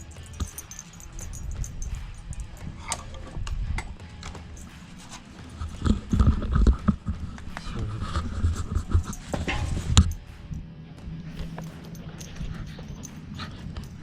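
Several dogs pant steadily and shuffle about close by, with claws clicking and occasional jingling, in a workshop where a truck's throttle body is being removed.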